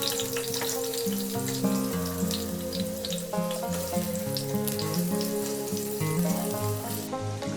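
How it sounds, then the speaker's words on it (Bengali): Potato and eggplant fry in mustard oil in a wok, a steady crackling sizzle running beneath prominent background music throughout. "আলু আর বেগুনটা আমি প্রথমে ভেজে নেব একটু ভালো করে।"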